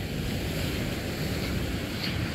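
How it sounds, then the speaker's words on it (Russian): Rough sea surf on a stormy Black Sea beach at Arkhipo-Osipovka in late September roars steadily with heavy wind noise buffeting the microphone, a constant churning wash without pauses. "Море штормит."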